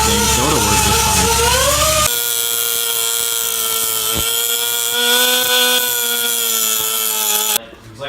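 Saw cutting steering coupler parts for an E30 drift car, a loud steady whining drone with strong harmonic tones, abruptly shifting pitch partway through and then cutting off near the end.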